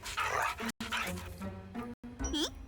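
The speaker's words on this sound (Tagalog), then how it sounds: "ang aso ay nasa labas pa rin." Yipping dog barks in short bursts, close and fairly loud, mixed with a voice speaking.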